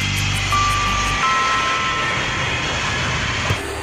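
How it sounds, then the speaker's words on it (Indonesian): A red-and-white Air Asia passenger airplane produces a steady, loud broadband engine roar that stays constant throughout, with a thin tonal whine running beneath it. "ada juga pesawat terbang Air Asia"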